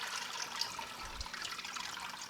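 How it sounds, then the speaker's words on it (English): Water draining and trickling out of the tray of an aquarium canister filter during cleaning, a soft continuous dribble at low level with no talk. "Let the water drain inside there."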